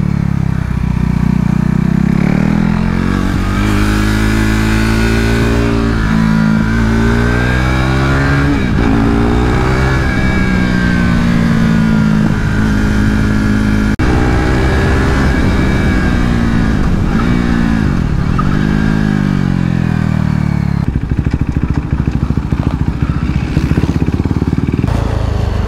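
KTM RC 390 Cup race motorcycle on a track day at Adams Motorsport Park, its single-cylinder engine loud and close, revving hard up and down through repeated gear changes without pause.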